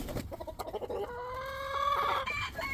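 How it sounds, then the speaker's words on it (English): Older hens clucking and calling close by in a backyard flock, a rising drawn-out squawk over steady low murmurs, no talking. "I got some much older hens here."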